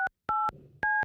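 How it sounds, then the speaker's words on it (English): Three short, clean telephone keypad tones beep in sequence, evenly spaced, close and clear with near silence between. "Dial tone. That was 10 beeps."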